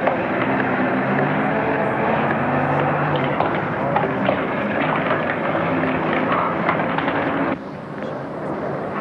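Propeller airplane engine drone from a 1950 airlift transport, loud and steady, with broadband roar and a rhythmic throb running continuously, dropping slightly in level near the end.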